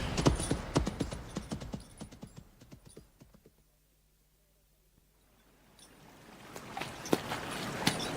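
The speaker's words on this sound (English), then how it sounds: "Your horses seem to be treading uneasily" Horses' hooves clip-clop at an uneasy walk on marshy ground, a dense irregular patter that fades to near silence midway and then returns, with a faint low hum underneath.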